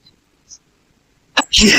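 Near silence, then a single abrupt sneeze bursts out loudly, followed by a breathy rush of noise.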